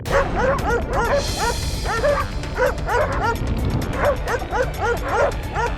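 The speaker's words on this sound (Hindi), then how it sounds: "भौंकना बंद।" Several dogs bark repeatedly and yip in a courtroom, a loud, continuous overlapping chorus of barks throughout.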